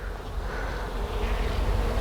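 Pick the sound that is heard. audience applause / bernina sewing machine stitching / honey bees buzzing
honey bees buzzing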